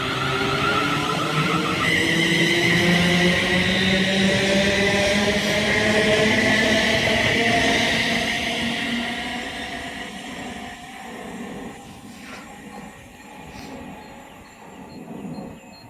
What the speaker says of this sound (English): 350-257 is ready to depart off to Birmingham New Street